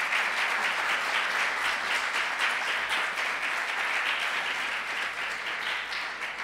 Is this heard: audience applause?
yes